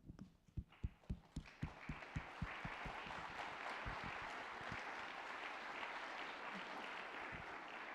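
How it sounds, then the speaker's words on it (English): A few sharp, distinct claps at a civic engagement forum quickly swell into full, sustained applause from the gathered audience honouring veterans and first responders, steady and moderately distant. "Would you wave or stand up so we can give you a round of applause?"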